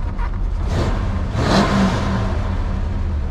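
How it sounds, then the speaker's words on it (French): A 1973 Plymouth Road Runner engine revs up loudly and close, rising to a peak around the middle before easing back into a strong steady roar. "Et le son de la voiture, et bien le voilà."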